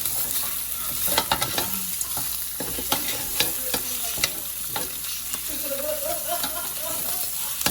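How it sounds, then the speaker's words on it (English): Ground meat browning with plenty of garlic in a pan, a steady close sizzle with repeated scraping stirs of a utensil throughout. "while the meat continues to brown"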